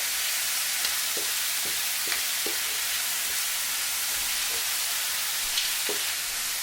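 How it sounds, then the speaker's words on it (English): Garlic butter shrimp with parsley flakes fry steadily in a pan, a continuous close sizzle and crackle with a few soft stirring clicks, no voices. "So we're going to fry for around 1 minute"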